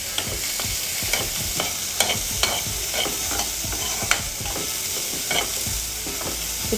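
Chopped carrots sizzle and fry in a pan while a utensil stirs them, with steady crackling and irregular scraping knocks against the pan, close and continuous, with no talking.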